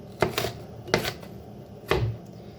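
Three distinct chopping thuds of a cleaver hitting a board while cutting vegetables for borscht, spaced about a second apart, close and moderately loud with a quiet background.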